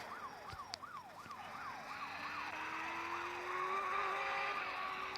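A police siren in a mobile driving video game wails, rising and falling in steady repeated sweeps, loud and continuous, over a low engine drone.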